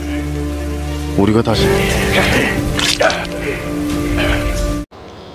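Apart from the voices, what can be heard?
rain falling during a film fight scene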